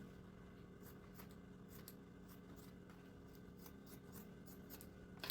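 Scissors snip through excess fabric while a toiletry purse is being sewn, a series of faint, quick cuts over a steady low background hum.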